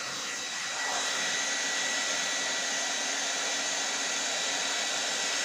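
A hair dryer blows on wet paint on a canvas, starting up after a brief moment and then holding a loud, steady, close whooshing roar with no talk.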